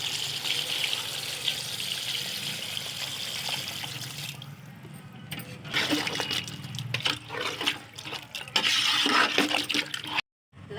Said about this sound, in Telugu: ఇప్పుడు ఇది ఉడకటానికి తగినంత నీళ్ళు పోయాలి.